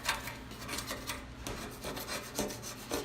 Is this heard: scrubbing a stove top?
yes